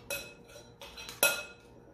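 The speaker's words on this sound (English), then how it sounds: "let's get out our teaspoon measure and have 2 teaspoons of baking powder" A metal teaspoon measure clinks against a container while scooping baking powder, with three or four short, light metallic taps and scrapes over two quiet seconds.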